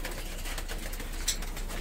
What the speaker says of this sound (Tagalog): Ito yung mga ibon mo.